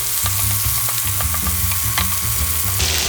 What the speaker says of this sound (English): We're going to mix this properly.